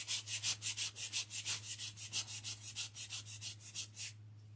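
Sanding Dixie Belle paint off a wood block by hand gives about twenty steady, evenly paced rasping strokes, close and fairly loud over a low constant hum, then stops near the end.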